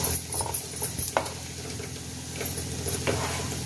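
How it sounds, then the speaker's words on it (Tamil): Stuffing sautéing in a pan until golden brown for a veg bread lasagna, a soft steady sizzle with faint scraping stirs and light ticks, quiet and close. "இப்ப இது கோல்டன் பிரவுனா நல்லா வதங்க ஆரம்பிச்சிருச்சு"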